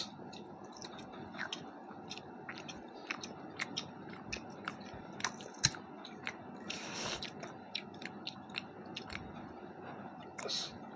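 Close crunchy bites and chewing of raw onion during a home lunch of rice and bitter gourd, a string of sharp crisp crunches over soft mouth sounds, with quiet talk in between.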